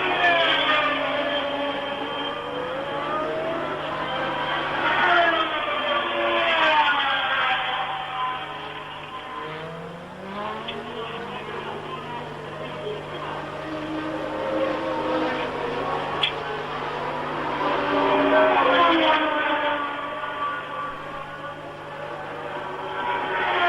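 Formula 1 race cars at the 1979 Spanish Grand Prix, including Scheckter's Ferrari and Lauda, droning continuously with rising and falling engine pitch as cars pass, loud and steady over a low broadcast hum.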